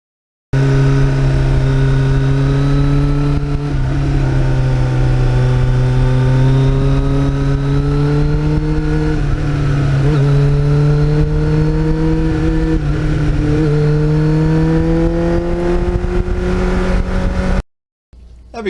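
A Kawasaki Ninja motorcycle fitted with a Muzzy exhaust revs loudly and close for about seventeen seconds, holding a steady high-pitched engine tone that climbs and dips through repeated throttle swells, with a sharp cutoff near the end.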